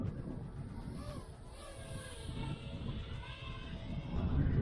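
Wind gusting past an HGLRC Rekon 5 drone flying on an 18650 Li-ion pack, a steady low broadband roar that swells and strengthens toward the end, with no talk.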